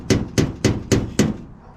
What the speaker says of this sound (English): now grab this pick and hammer